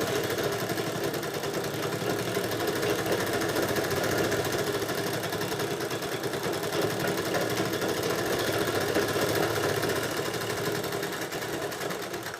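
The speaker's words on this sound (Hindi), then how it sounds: "किनारे किनारे सिलाई लगा करके हम इसको फिट करेंगे" A sewing machine stitches an apron collar in a continuous, steady mechanical whirr that runs unbroken and fairly close throughout.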